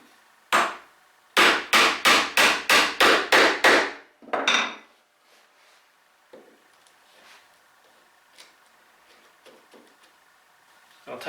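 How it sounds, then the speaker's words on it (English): A small chisel driven by mallet blows into knife lines in wood for chopping twin mortises: a single strike, then a rapid run of seven even, loud, close knocks, one more blow, and faint tapping and handling afterward. "I'll take my smaller chisel this time and just pop that into the knife lines at the side"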